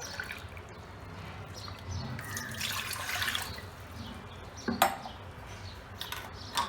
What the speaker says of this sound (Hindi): अब कुकर में 1 गिलास पानी डालेंगे